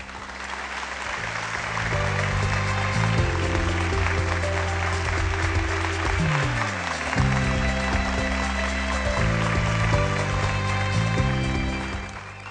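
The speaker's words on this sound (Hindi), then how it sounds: "आपकी भरपूर तालियों में अनायत अली खान" A studio audience applauds for several seconds on a Pakistani TV show, the clapping swelling and holding steady while music plays underneath.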